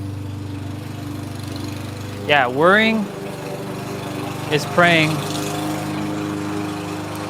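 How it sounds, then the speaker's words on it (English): A lawn mower cutting grass drones steadily in the background, a constant engine hum running beneath a person speaking close to the microphone. "Yeah, he's cutting grass. Yeah, so you all will hear the lawnmower for now."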